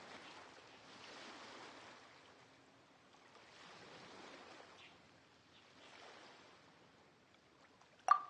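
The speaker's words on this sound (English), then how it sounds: "Oh, and the sound of the waves." Ocean waves at a harbor in a PS4 video game swell and recede in three slow, soft surges, faint and far, ending in a brief sharp chime.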